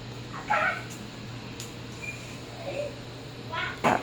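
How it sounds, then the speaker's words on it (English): A cat meows a few times from a television, brief mewing calls over a steady low hum in a home, with faint household sounds around. "there's a kitty on TV"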